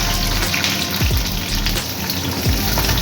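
Capsicum frying in hot oil with chopped garlic and ginger for chili chicken, giving a steady, dense, watery sizzle that stays even throughout with no talking.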